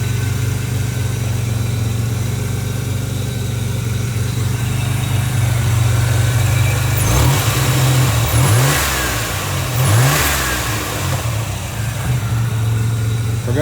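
A Chevrolet Camaro engine idles with a low steady rumble, then revs up sharply twice in quick succession before settling back to idle.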